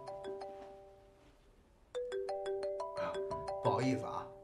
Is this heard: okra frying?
no